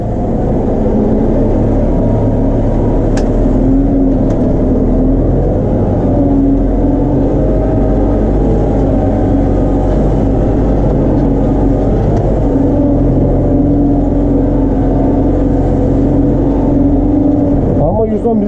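A Case JX110 or New Holland TD90D tractor labors through mud in a meadow, its engine a loud, close, continuous drone with a steady low hum and slight shifts in pitch throughout.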